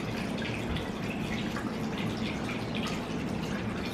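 Coolant pouring steadily through a small funnel into a car radiator on an SR20DET-engined car, a continuous close liquid trickle and splash with no talking.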